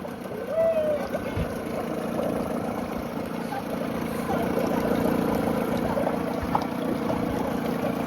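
A vintage Johnson 4 hp two-stroke outboard engine idles low and steady, a continuous close putter with no revving, while someone talks over it.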